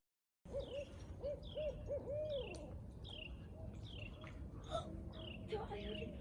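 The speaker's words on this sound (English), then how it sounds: "You heard another one. Yeah, they're calling to each other." Barred owls hoot back and forth in a series of rising, wavering calls, with a brief murmur of voices in the background.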